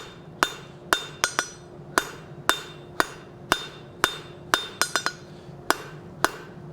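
Hammer blows on hot steel while drawing out a tenon at a forge for a wolf head door knocker; about fifteen sharp, ringing strikes land in an uneven rhythm, some in quick pairs, with short decays between.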